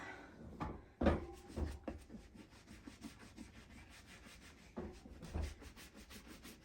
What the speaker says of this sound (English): you're buffing them up there a little bit